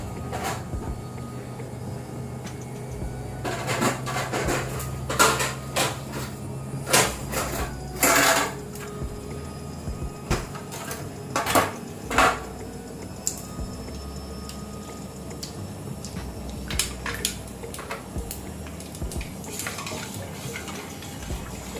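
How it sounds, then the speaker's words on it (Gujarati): Ice cubes drop into pani puri water, giving scattered sharp clinks and knocks in irregular clusters against a quiet background with no talking. "હવે આપણે એની અંદર થોડા આઈસ ક્યુબ ઉમેરી દઈશું."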